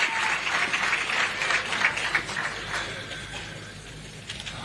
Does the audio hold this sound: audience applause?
yes